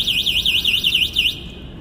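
An electric bicycle's anti-theft alarm wails nearby in a rapid, warbling high-pitched siren that repeats steadily before cutting off.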